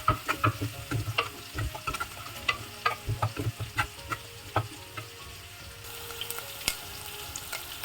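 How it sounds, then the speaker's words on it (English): Crushed shallots frying with ginger-garlic paste in a pan, a soft sizzle punctuated by a rhythmic series of spatula knocks and scrapes, close and fairly quiet, with no talking. "Then I'm adding the crushed shallots to it and we will fry them"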